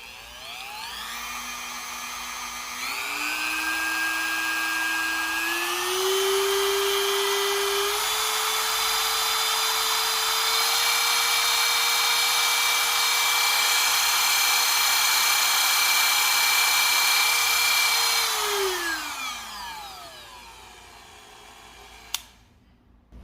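A Dremel 4300 rotary tool spins up and steps through its speed settings, starting at the lowest. It makes a high motor whine that rises in pitch in stages, holds steady, then winds down to silence, with a click near the end.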